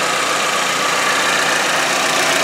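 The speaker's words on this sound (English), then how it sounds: "Engine runs smooth." Steady, even idle of a 2013 Chevy Equinox 2.4L four-cylinder engine, close and fairly loud, a smooth continuous hum with no other sounds.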